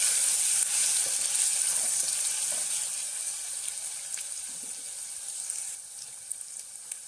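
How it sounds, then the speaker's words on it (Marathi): Slit green chillies, ginger and garlic sautéing in oil, giving a steady close hiss and sizzle that eases slightly over time, with a few light stirring clicks. "दोन हिरव्या मिरच्या उभ्या चिरलेल्या आलं लसूण चांगलं परतलून घ्यायचं तेलावर"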